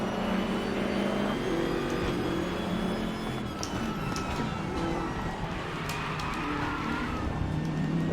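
A race car in the RaceRoom racing game roars through a close battle with other cars, its engine a dense, continuous loud drone with shifting pitch and a few brief tire chirps.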